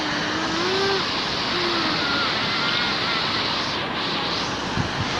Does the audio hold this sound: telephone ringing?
no